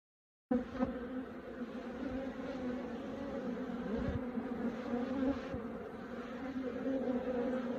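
Honeybees drone steadily in an open hive box, a close, continuous buzz that swells slightly and holds without pause.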